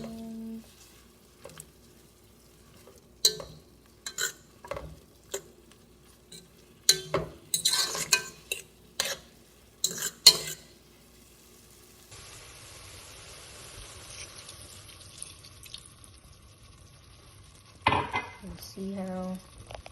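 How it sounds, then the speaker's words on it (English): Metal utensils clink and scrape against a pan in bursts, then a steady sizzle of pepper steak sauce frying takes over, with a few more clatters near the end. "all the sauce will sizzle at the bottom"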